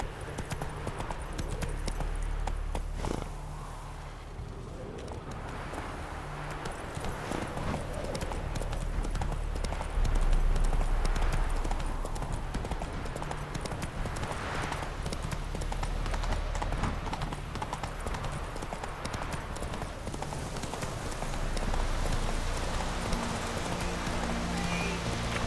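Roach the horse gallops in The Witcher III, a steady rapid clip-clop of hooves running continuously under a dense game soundscape of music and ambience, with a faint voice at times.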